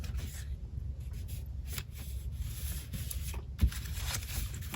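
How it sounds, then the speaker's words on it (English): Close, continuous rubbing and scraping comes from paper being folded toward the center and creased while making a junk journal. One sharper crease stands out near the end. "And then we're gonna fold this towards the center."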